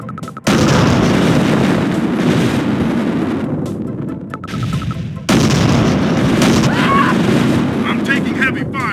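Heavy gunfire and explosions in Command & Conquer Tiberian Sun, a loud dense barrage of booms and shots that fades briefly then slams back in with a sharp blast, with short voice snippets over it.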